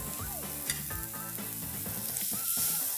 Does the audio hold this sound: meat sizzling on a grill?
yes